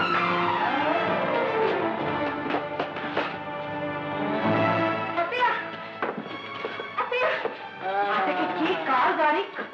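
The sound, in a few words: car skidding before a crash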